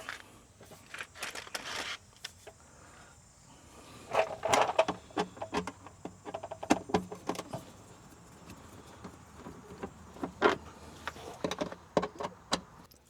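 A flexible driver loosens screws on a Polaris RZR XP 1000 side-by-side during belt and clutch work, with faint, irregular metallic clicks and clanks, some in quick clusters, over quiet background.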